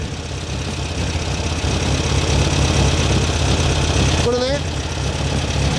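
Air-cooled Volkswagen Beetle engine idling high, around 1100 rpm, during carburetor adjustment, a steady loud mechanical drone throughout, with someone speaking briefly near the end.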